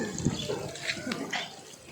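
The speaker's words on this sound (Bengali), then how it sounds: "পানি মারলো যাতে না লাগে" Water sprays onto a motorcycle being washed, a soft irregular splashing and hissing with quiet voices nearby.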